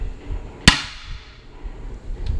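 A hammer gives a metal bell housing a single sharp rap, driving it onto its alignment dowels on a wood chipper. The blow is one close, loud crack, and a brief metallic ring fades away after it in a quiet workshop.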